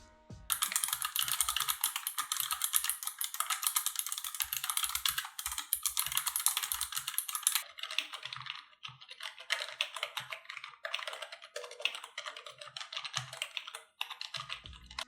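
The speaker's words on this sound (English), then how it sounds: "Here's what it sounds like to type on each." Typing on a Razer Ornata Chroma and a Corsair K55 keyboard, heard close up as fast, dense clattering keystrokes, first crisper and brighter, then a softer, sparser patter with occasional pauses.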